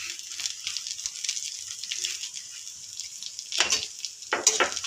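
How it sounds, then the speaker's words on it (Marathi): Semolina roasting in hot ghee for a sweet sheera offering, a steady soft sizzle with occasional louder scraping stirs near the end, close and fairly quiet. "तूप गरम झाले की मग त्यात आपण हा रवा टाकून भाजून घेणार आहोत।"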